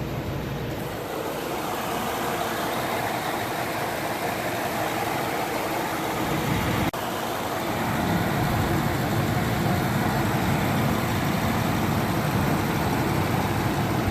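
A 2018 Ford E-450 RV's 6.8L V10 engine idles steadily before an oil flush, giving a continuous low rumbling drone that shifts slightly in tone partway through and holds evenly to the end, with no voices.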